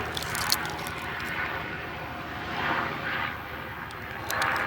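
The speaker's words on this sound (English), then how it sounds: "There's a helicopter." A helicopter passes overhead outdoors, its broad rotor and engine drone holding steady and fairly loud for the whole stretch, swelling slightly toward the end.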